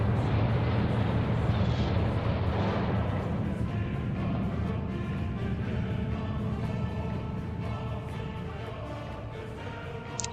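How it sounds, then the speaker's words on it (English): Mortar fire in the World War II strategy game Steel Division: a dense, continuous rumble of distant blasts and booming impacts, loudest at the start and slowly thinning, with no voices. "He's using these mortars heavily."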